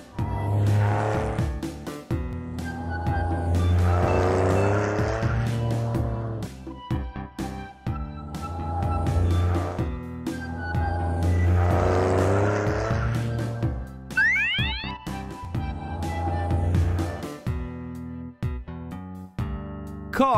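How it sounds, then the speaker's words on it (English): Cartoon taxi car driving with a low engine hum, repeated whooshes as it speeds past, a short tire squeal midway, and scattered clatter, in loud bursts separated by short lulls. "Taxi."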